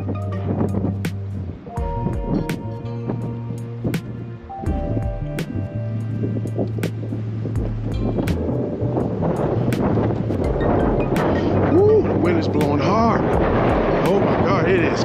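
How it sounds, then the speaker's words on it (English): Wind blowing outdoors on a cold day in Fredericksburg, Virginia, a continuous rumbling buffet against the microphone with low droning tones and thumps, while a person talks over it. "It's kind of windy."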